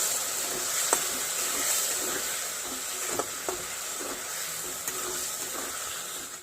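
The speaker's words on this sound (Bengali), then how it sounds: "আমার এটা ফুটে উঠেছে।" Chilli chicken sauce thickened with arrowroot and water bubbles in a pan, a soft steady hiss with occasional faint pops and ticks.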